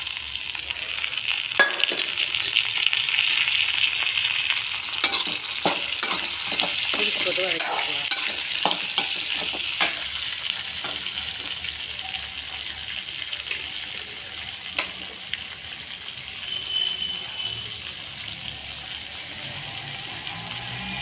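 Beans sautéing in sesame oil for a Karaikudi-style beans poriyal, a steady close hiss of frying with repeated scraping and clacking stir strokes, busiest in the first half, then settling into continuous sizzle.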